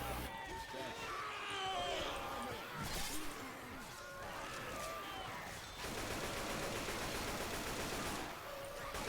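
Gunfire erupts in the video game Left 4 Dead 2, bursts of rapid shots and crashes amid chaotic in-game action, with excited talking layered over the shooting.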